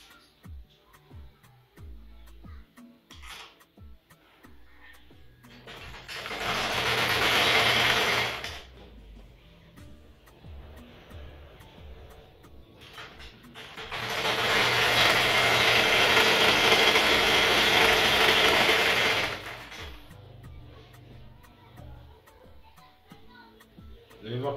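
Sewing machine stitching a seam 16 cm along an oversized pair of trousers being taken in, two sustained loud bursts of machine whirring separated by a pause, with faint talk in the quieter gaps.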